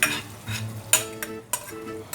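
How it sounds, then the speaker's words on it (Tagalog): Flaked tuna in oil and spicy tuna frying in a pan, a low sizzle with several distinct scrapes and clinks of a utensil stirring, close and fairly quiet, no talk. "let's put the mixed tuna flakes in oil and spicy tuna in the pan"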